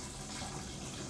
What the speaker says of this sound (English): now let's pour it into our container